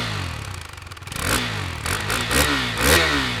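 A 2022 KTM RC390 sport motorcycle on a race track, its single-cylinder engine and larger new exhaust revving hard through rising and falling pitch sweeps as it accelerates and shifts, loud and close with rough mechanical clatter.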